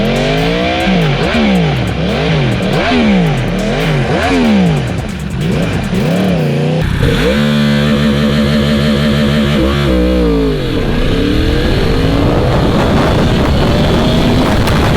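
A 2020 Yamaha R1 sport bike with an Akrapovic slip-on exhaust revs hard through rising and falling sweeps, then holds a loud, high-pitched wail close by, with wind buffeting the microphone.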